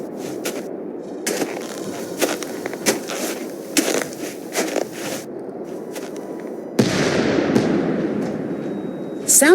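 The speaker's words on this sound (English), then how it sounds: "Sounded like an explosion." A sharp explosion bursts out late in a snowy outdoor scene from the game Nancy Drew: The White Wolf of Icicle Creek, then settles into a rushing roar. Scattered crackling thuds come before it.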